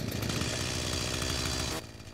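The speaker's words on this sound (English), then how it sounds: "Okay, chainsaw." A chainsaw runs in the video game Junkyard Truck, a loud, steady buzzing engine drone that cuts off sharply near the end.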